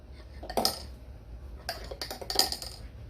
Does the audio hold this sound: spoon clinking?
yes